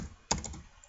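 A single sharp key tap on a computer keyboard, close and clear, followed by faint softer ticks.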